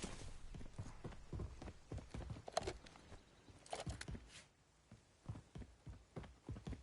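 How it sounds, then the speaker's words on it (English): Footsteps in a first-person shooter video game, a run of hard, quick steps that start loud and close, pause briefly, then resume more faintly. "heard footsteps around here"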